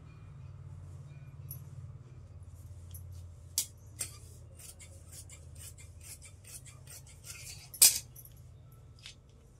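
Scissors snipping through cloth while cutting fabric for a garment, with soft rasping cuts and a few sharper snips and clicks close by over a faint low hum.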